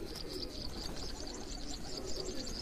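Pigeons cooing in a rooftop pigeon-flying setting, with soft continuous coos and twittering blended into steady outdoor background noise, moderately loud and without talk.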